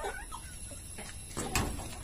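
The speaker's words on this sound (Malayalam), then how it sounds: "ഇനി നമുക്ക് തൊട്ടടുത്ത കൂട്ട് പോയിട്ട് അവിടെ മുട്ടയിടുന്ന കോഴികളൊക്കെ ഉണ്ട്" Egg-laying hens in a coop cluck in short, scattered bursts over a constant rustling, noisy background, with a slightly louder burst near the end.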